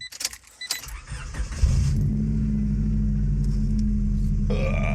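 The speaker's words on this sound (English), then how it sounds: "so I'm gonna get a cold start" A 2000 Honda Civic Si EM1 engine cold-starts after a jangle of keys and a brief crank, catching into a loud, steady, rumbling idle heard close up.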